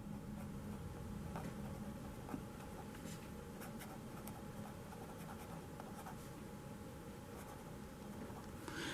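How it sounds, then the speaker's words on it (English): A pen draws a parallel line on paper, producing a faint, continuous scratchy scribbling with small ticks, quiet and close with no talking. "So we'll draw a parallel line."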